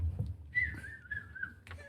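A person whistles in imitation of a Chi-Chi bird call: a single sustained, slightly wavering tone held for about a second, close and fairly quiet, followed by a short second note.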